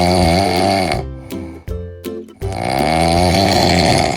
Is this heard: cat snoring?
yes